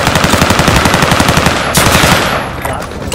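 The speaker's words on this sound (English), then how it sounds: "I'm taking fire!" Rapid automatic gunfire rattles loudly in a video game while the player is being shot at, a dense stream of shots that cuts off and fades after about two seconds.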